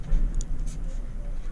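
Chalk or pen writes out the solution to a class 10 maths problem, leaving a couple of faint, brief scratchy strokes over a low room hum.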